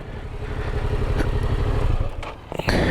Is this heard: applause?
no